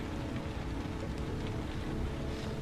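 Steady rain falls in the video game Heavy Rain, a dense, even hiss of downpour that holds at a constant level throughout, with no voices over it.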